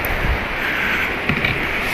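Water poured out of a pan while cleaning heavy gold concentrate before drying the magnetite, a steady broadband splashing rush lasting the whole moment, fairly loud and close with no voices.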